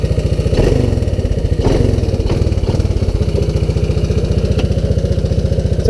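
A 1985 Honda ATC200S three-wheeler engine runs warm and unchoked, a loud, steady, rapid single-cylinder putter with slight revving swells near the start.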